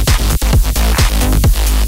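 A remix plays loud, a thumping beat with punchy kicks in a steady rhythm under bright synth layers, filling the whole short stretch.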